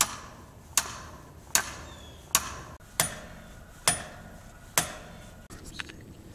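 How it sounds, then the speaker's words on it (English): A sledgehammer strikes the end of a metal grounding rod, eight sharp ringing blows in an even, unhurried rhythm, loud and close with quiet between hits and no talk. "I just have to whack the end of this with the sledge."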